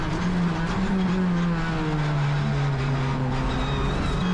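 A Polo Cup race car accelerates hard on track, its engine a loud, sustained drone with rising and falling pitch heard close up from inside the car, no voices present.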